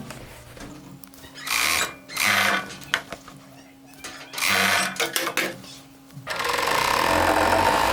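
A sewing machine stitches fabric in several short bursts of rapid mechanical whirring separated by pauses, ending in a longer steady run, with hand-adjusted thread tension and someone talking between the bursts.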